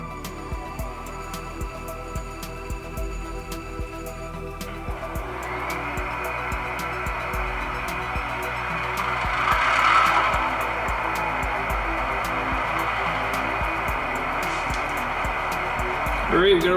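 An Athearn GP15-1 model locomotive sound unit starts up: clicks and a cranking rumble settle into a steady diesel idle with a constant whine, the engine swelling briefly before holding steady.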